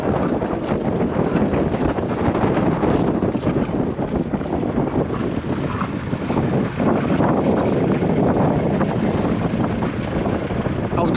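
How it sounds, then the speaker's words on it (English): Wind blows hard across the microphone aboard a sailboat out at sea, a loud constant roar and rush that never lets up, with no talk heard. "it's a bit too windy"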